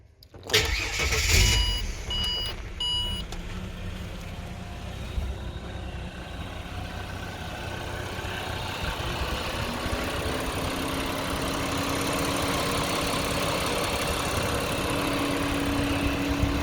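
A turbocharged Ford Falcon BF XR6 engine cranks and catches with a brief loud burst, then settles into a steady, fairly close idle that holds for over ten seconds, with a faint rising whine late on.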